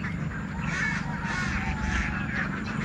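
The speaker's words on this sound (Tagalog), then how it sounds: "Ang tawag pala sa ibon na to ay Great Egret." A Great Egret gives a series of harsh, croaking calls on Talim Island, moderately near and repeated over steady low background rumble.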